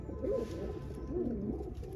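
Several pigeons coo in low, rolling phrases, close and steady, two clear bursts standing out over a continuous murmur of cooing from the flock.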